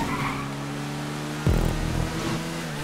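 Race car in GTA 5 Online, its engine droning steadily before a sudden louder burst of tire squeal and scraping roughly halfway through, close and without speech.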